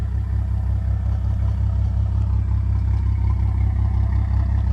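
A warmed-up Toyota MK5 Supra with a straight-piped exhaust idles close by, giving a steady, deep, even rumble that holds constant throughout with no voices.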